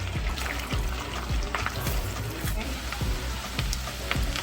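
Garlic dropped into melted butter in a seafood boil pot, with a steady close sizzle and crackle that runs without a break.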